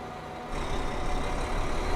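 A truck's engine rumbles behind a Neoplan Starliner coach in Euro Truck Simulator 2, a steady low drone that swells in loudness after a brief quieter start, with no voices.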